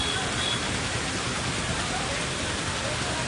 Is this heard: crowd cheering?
no